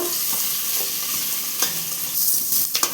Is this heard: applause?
no